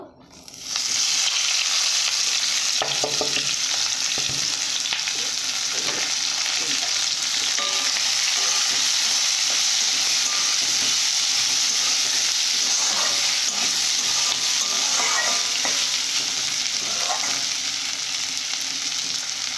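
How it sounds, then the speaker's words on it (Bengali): Onion, tomato and chopped ginger fry in leftover fish-frying oil, a steady loud sizzle and crackle lasting throughout, with faint stirring scrapes and no talking. "দিয়ে ভালো করে আমি ভেজে নেব"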